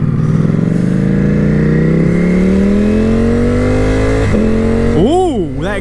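A nearby 2018 Ducati Panigale V4S sport motorcycle exhaust revs, its pitch climbing steadily, dipping with quick-shifter gear shifts, then several quick blips at the end.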